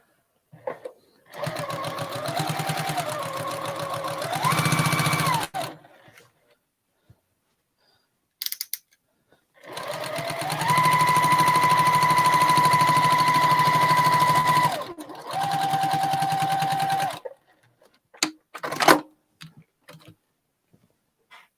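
A sewing machine stitching fabric down in bursts, its needle running in rapid mechanical chatter for a few seconds, pausing, then running again at a steady high speed, with short quiet gaps and faint handling noises between runs.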